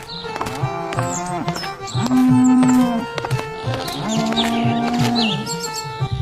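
Buffaloes tethered at a stable give two deep, drawn-out lows, close and loud, with faint bird chirps in the background.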